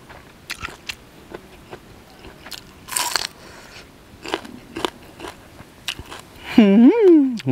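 Someone eats a crunchy Thai salad of large golden apple snails with bitter gourd. Close, sharp bites and crunchy chewing come in bursts, then a voice speaks near the end.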